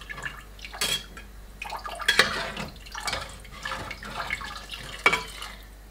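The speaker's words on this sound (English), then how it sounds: "You can pour water according to your wish," Water is poured into a pressure cooker pot for lamb or mutton nihari, heard as a few separate splashing pours and trickles with clinks between them, close and moderately loud in a quiet kitchen.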